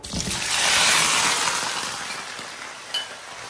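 Ginger and garlic sizzle loudly in hot oil in a home kitchen stir-fry, a steady bright hiss that swells and slowly fades, with a brief clink of a utensil near the end.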